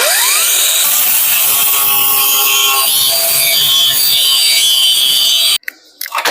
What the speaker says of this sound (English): So I might do this part with an angle grinder, might be a little bit easier.